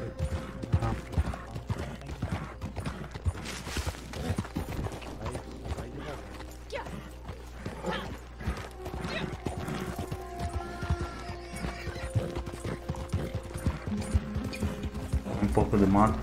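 Horse hooves clip-clopping in Red Dead Redemption 2 online, a steady rhythmic patter under game music and creaking tack, with people talking over it throughout.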